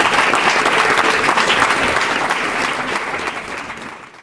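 Warm audience applause for performers on stage at a book reading event, dense sustained clapping filling the room before tapering off at the end.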